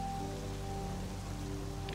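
Steady rain pours down in GTA V during a torrential downpour, a constant dense hiss of drops hitting surfaces with a low engine-like hum underneath, heard alone without talk.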